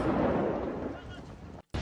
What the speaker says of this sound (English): a secondary explosion.